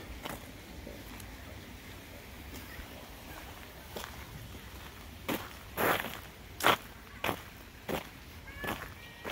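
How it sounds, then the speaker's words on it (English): Footsteps scuffing over small garden pebbles at The Alnwick Garden, quiet crunching at first, then several louder close scrapes in an uneven walking rhythm. "I'm scuffing my feet on the little pebbles."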